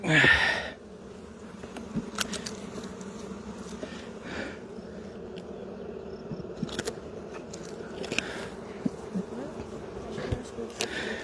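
Steady low drone of many honeybees buzzing close by during a hive inspection, a continuous hum with occasional knocks and rustles over it.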